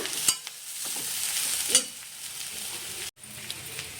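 Mushroom masala with grated coconut and ginger frying in a pan gives a steady hissing sizzle, broken by a couple of sharp stirring clicks and a brief dip in the sound.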